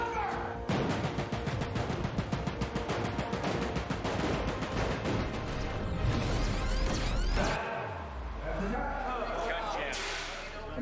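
Pyrotechnic explosions on a film set for a battle scene in Oblivion: a rapid barrage of loud blasts and crackling bangs, dense and continuous, followed by a deep rumbling boom and scattered debris clatter.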